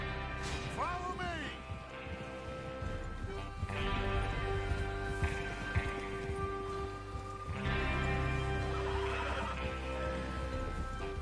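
Horses neighing in Red Dead Redemption 2 as riders prepare for a train robbery: a clear whinny near the start, then louder stretches of horse movement under steady background music and talk.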